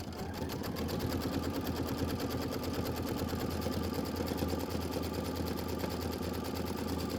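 A Kimberbell embroidery sewing machine stitches a tack-down on fabric, a steady, close, rapid mechanical whirring and chattering that holds an even rhythm for the whole stretch with no talk.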